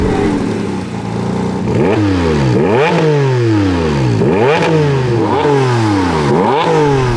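A Porsche 718 GT4 RS engine revs hard through repeated rising sweeps, about five climbing pulls that each drop sharply as the next begins, loud and close with no talk.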